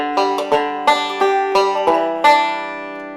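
Bluegrass banjo solo played with an alternating right-hand roll, a bright, close, steady flow of plucked notes with crisp attacks ringing over one another.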